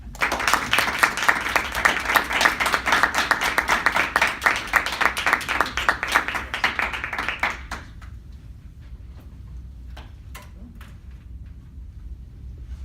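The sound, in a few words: audience applause welcoming speaker Matthew Boyce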